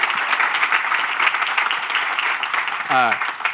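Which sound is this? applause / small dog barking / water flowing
applause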